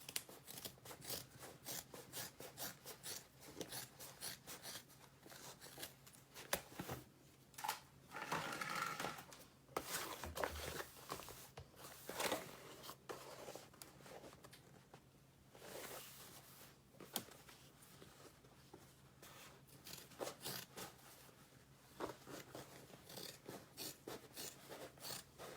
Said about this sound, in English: now we're gonna cut off all this extra seam allowance on the side